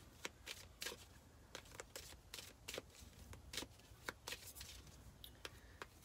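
Soft, quiet tarot card shuffling with a series of quick riffling bursts and light taps, close by, with no talking.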